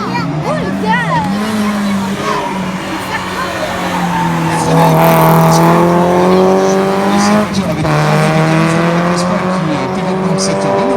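Renault Mégane 3 RS race car in class N4 climbing through a hairpin at a hill climb, engine note swelling loudly as it passes with tire squeal, an announcer and spectators talking over it.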